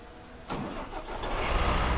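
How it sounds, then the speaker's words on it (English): Truck engine in the SnowRunner game cranking over and catching at about half a second, then running on with a rising, rough mid-pitched rumble, close and steady with no talk. "The engine did start."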